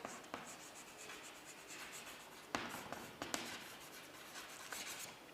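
Chalk or marker scratching across a classroom board in short strokes and taps, a few sharper knocks standing out, close and fairly quiet with no talking.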